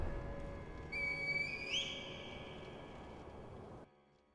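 A reed whistle in the video game Sekiro gives a clear, thin tone that rises and bends upward near its end, sounding alone over a low ambient background before cutting off.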